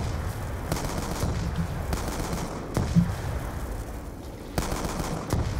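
Gunfire in Black Ops 2 Zombies, a video game, with repeated sharp shots at irregular intervals and short bursts over a steady background rumble, fairly loud and close.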